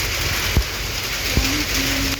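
Rainy-season rain falls outside a house near a road, a loud, steady patter and hiss throughout, with a couple of sharp knocks and no talk.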